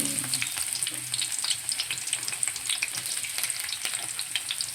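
Onions sizzle in a hot pan, a close, busy frying crackle with scattered sharp pops and spatter over a steady hiss.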